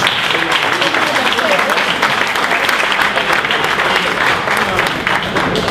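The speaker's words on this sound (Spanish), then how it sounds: "Este aplauso es para que viene por primera vez, vamos a repetirlo." A repeated round of applause from the audience at a community group meeting, thick continuous clapping held at an even, loud level for several seconds.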